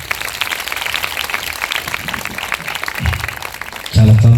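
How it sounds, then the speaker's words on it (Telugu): A church congregation at a Christian gospel meeting in Kavuluru claps for the visiting pastor, a dense, steady patter of many hands that runs throughout and gives way at the end to a loud sustained tone. "ఒకసారి అయ్య గారికి చప్పట్లు కొట్టి"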